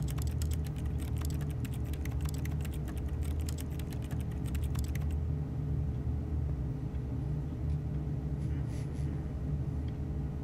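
Rapid keyboard typing in The Stanley Parable office, a dense run of close clicks for about five seconds over a steady low rumble, then stopping and leaving only the hum.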